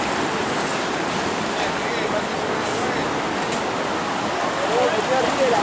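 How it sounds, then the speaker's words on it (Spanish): Floodwater from the overflowing San Lorenzo creek rushes steadily at Puerto General San Martín, spilling over the edge onto a paved street as a continuous broadband roar that holds level throughout, with wind-like hiss and no breaks. "el arroyo San Lorenzo desbordado en la margen de Puerto General San Martín. Como pueden ver, el agua llega"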